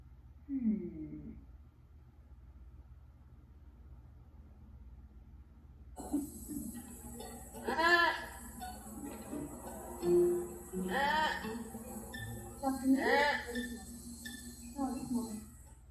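Several high, wavering squealing calls of a sloth rainforest animal come in a loose series, fairly faint over a quiet background, with a brief voice sound near the start.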